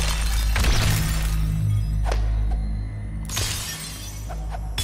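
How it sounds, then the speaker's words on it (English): Glass shattering sound effect in the Animation vs. Math animation, a loud crash near the start followed by scattered tinkling fragments and a second burst later, over a steady low hum. "It sounds like glass breaking."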